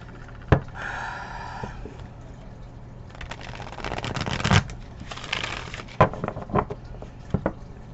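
Tarot cards being shuffled in several bursts of crisp riffling and slaps, close to the listener, with quiet pauses between.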